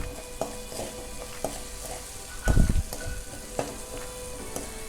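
Chili powder and spices sizzle in hot oil for dal, a steady close crackling fry. Soft utensil taps sound through it, and a louder burst of hiss comes midway.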